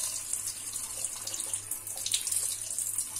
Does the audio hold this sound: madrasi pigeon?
no